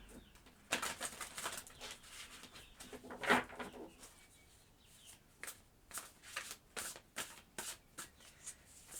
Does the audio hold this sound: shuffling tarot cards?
yes